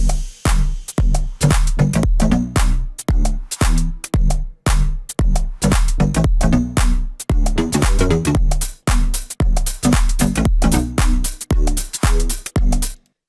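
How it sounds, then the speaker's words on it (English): Loud electronic house synth stabs pulse in a steady, choppy dance rhythm, each chord cut off sharply, forming a repeating melodic pattern with no voices. "So there's our new house melody."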